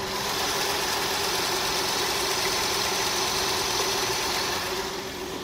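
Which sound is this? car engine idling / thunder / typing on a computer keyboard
car engine idling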